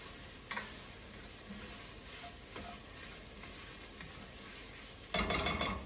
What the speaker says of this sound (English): it does say to stir it constantly for about another 2 minutes